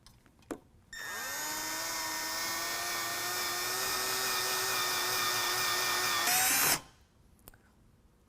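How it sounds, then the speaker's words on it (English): A power drill with a 19/64 bit whines loudly and steadily for several seconds while boring a hole into a roof top tent ladder on a 2022 Toyota Tundra, then pitches up briefly before stopping. "We're going to drill new holes into the ladder with a 19/64 drill bit."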